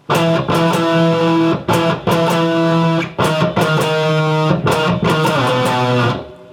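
A loud distorted electric guitar plays the chugging post-chorus riff of a song, sustained chords broken by sharp rhythmic stops, ending as the last chord fades.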